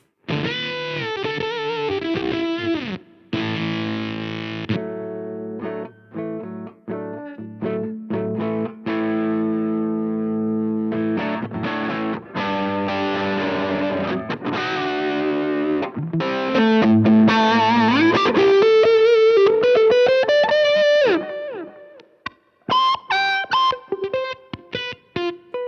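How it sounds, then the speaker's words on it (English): An electric guitar with a thick, buzzing fuzz distortion plays sustained notes and bends, ending in choppy stabs with brief silences. "And I have a fuzz sound, which is this."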